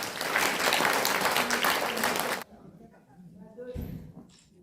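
Loud audience applause fills a large hall at a civic award ceremony, a sustained wash of clapping for about two and a half seconds that then stops abruptly, leaving faint room noise and a brief low thud.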